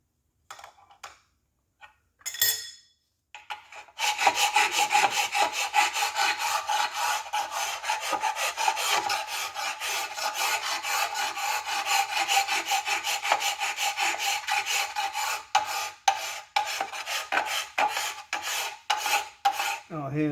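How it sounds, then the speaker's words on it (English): A long file rasps across a cast aluminum camshaft cover in steady back-and-forth strokes, a loud continuous scraping that runs for many seconds after a few scattered taps, then breaks into separate shorter strokes near the end. "I'll hit it with a long file and at least get some of it."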